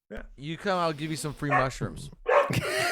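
A dog barks in a room during a podcast recording, a short sharp bark near the end that overlaps an adult voice talking steadily throughout.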